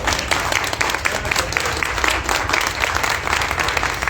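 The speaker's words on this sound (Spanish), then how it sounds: "Un aplauso para todos." An audience at a literary talk on pre-Hispanic worldviews breaks into loud, dense applause, many hands clapping continuously and close for the whole stretch.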